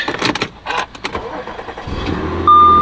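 An Audi S4 engine with 140k miles and a manual transmission cranks a few times, then catches and settles into a steady idle, close and fairly loud.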